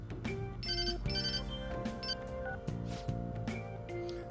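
A phone rings in the Persona 5 video game with a bright electronic melodic ringtone, tones repeating in short musical phrases over a steady synthesized backing, loud and close.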